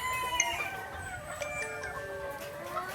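Pure-breed white Kelso gamefowl on a farm, several birds clucking and crowing together in a dense, continuous chorus at close range.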